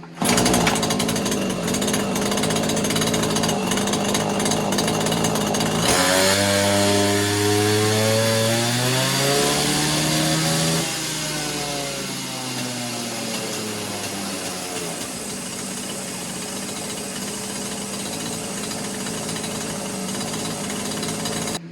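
A Neotec 843 43cc chainsaw, a clone of the Husqvarna 543XP, runs loud and close. Its steady high-revving two-stroke scream dips into a wavering, lower bogging drone partway through, then settles back to a constant whine.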